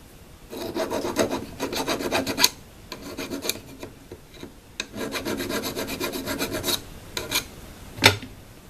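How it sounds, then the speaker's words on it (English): A hand file rasps a burr off an aluminum lathe faceplate in quick rhythmic back-and-forth strokes, close and distinct, grouped in bursts with short pauses between them. "Need to file this burr off so it'll sit flat."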